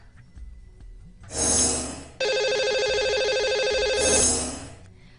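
Telephone ringing over a radio show's phone line as the host calls a lucky caller: two loud bursts of electronic ring tone with a steady warbling ring between them, carried on alone with no talk.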